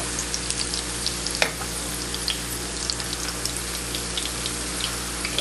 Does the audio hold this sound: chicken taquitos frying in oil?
yes